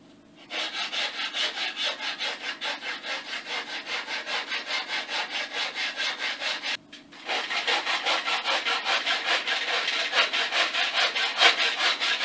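A wooden katana blade has its bevel shaped with a rasp or file, making continuous rhythmic rubbing strokes, loud and close, with a brief pause partway through.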